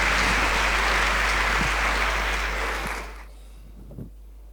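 Guests at a UNESCO gala evening applaud a slam poet from Cameroon, a loud dense burst of clapping that holds for about three seconds and then fades away into near quiet.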